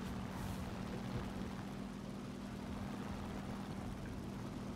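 Steady droning aircraft engine hum during a landing in War Thunder, a constant low tonal drone over broadband rushing noise, even in loudness throughout.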